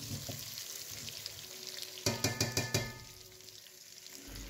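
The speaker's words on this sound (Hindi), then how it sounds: "तो अभी मैंने इसमें गोला कबाब ऐड किया, इसको थोड़ा सा हल्का सा मैं फ्राई करूँगी ऑयल में इन प्याज के साथ।" Gola kabab frying lightly in oil with onions in a pan, a steady sizzle with a short burst of sharp crackles and clatter partway through, moderately close.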